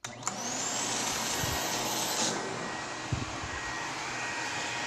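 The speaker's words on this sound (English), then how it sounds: "I will show you how well this picks up dirt" A Tristar EXL canister vacuum cleaner starts up and runs with a steady loud whirring roar while picking up dirt. Faint clicks of debris are drawn in partway through.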